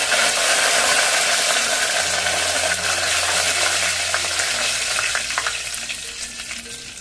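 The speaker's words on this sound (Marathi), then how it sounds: "जिरे छान फुलले, आपण कढीपत्ता टाकूया।" Cumin seeds and curry leaves sizzle in hot oil for a Satara-style chili dish, a loud steady crackling hiss close to the microphone that gradually settles and softens, with no talking.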